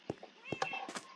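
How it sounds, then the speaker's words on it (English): A cat meows a few short times in a farm-style video game, close and mid-level, amid light clip-clop and footstep-like noises. "I hear your cat meowing again"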